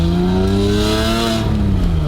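Porsche 911 Carrera S with an aftermarket exhaust revving close by, a loud raspy, tinny engine note that climbs and then falls away with clear harmonic whine over the roar.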